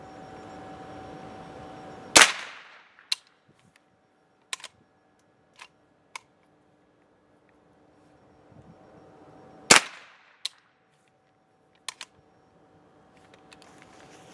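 A Chiappa M4 .22 LR rifle fired outdoors, two sharp close shots several seconds apart, each followed by lighter clicks and clacks of the action, with a faint steady hum in between.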